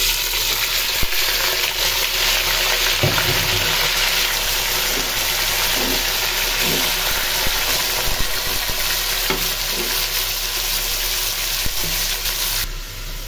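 Meat dropped into hot oil with whole spices like cumin, cloves, bay leaf, cardamom, cinnamon and black pepper, giving a loud, close, continuous hissing sizzle with faint crackles throughout.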